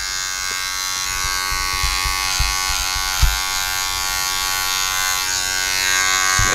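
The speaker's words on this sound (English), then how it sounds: "you can hear the hair being cut" Electric hair clippers buzz continuously up close during a taper fade haircut, with soft bumps and crunches as they cut through hair.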